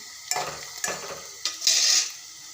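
Onions sizzle in a hot pan while a spoon scrapes and stirs them in a few quick strokes, close and fairly loud, with a steady frying hiss underneath.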